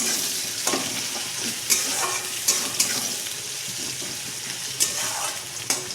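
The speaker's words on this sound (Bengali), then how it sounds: "এই যে আমার তেল গরম হয়ে গেছে, এবার আমি পেঁয়াজগুলো দিয়ে দেবো" Sliced onions fry in hot oil and are stirred for a pabda fish jhal, a steady close sizzle broken by sharp scraping stirs every second or two.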